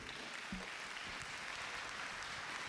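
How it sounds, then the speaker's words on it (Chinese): A studio audience at a dating show welcomes a guest with dense, low-level clapping that stays even throughout. "掌声有请。"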